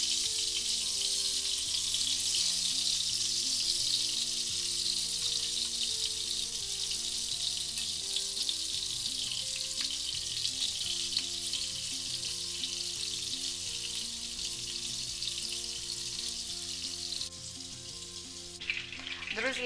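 Meatballs fry in a skillet with a loud, steady, dense sizzle that runs unbroken for nearly twenty seconds, with a brief clatter near the end and no talking.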